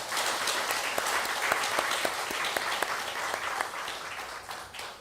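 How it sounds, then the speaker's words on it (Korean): Sustained applause rises from a church congregation at a Korean Sunday worship service, many hands clapping in a dense, continuous patter that stays fairly loud throughout before easing slightly at the end. "잘 갔다 오라고 박수 하겠습니다."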